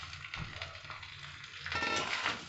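Green chillies and peas frying in hot oil in a pan, a quiet steady sizzle that swells louder near the end as the food settles into the oil.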